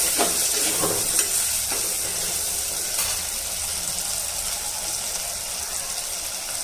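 Capsicum frying in a handi for winter undhiyu, a steady close sizzle with stirring scrapes and small clatters throughout, no voices.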